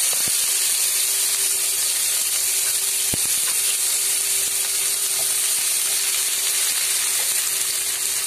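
Chopped tomato, garlic and onion sizzling in a hot pan over cumin seeds while making toor dal, a loud, steady frying hiss throughout with an occasional clink of a utensil.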